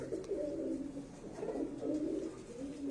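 Pigeons about two years old, kept by a breeder in Faisalabad, coo in low rolling phrases that repeat several times, near and fairly soft.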